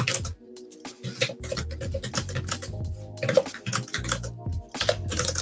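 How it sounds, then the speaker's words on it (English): Rapid typing on a slim ThinkPad keyboard attached to an Android tablet, a close, crisp run of key clicks in uneven bursts with brief pauses, played alone. "And this is a very nice keyboard to type on."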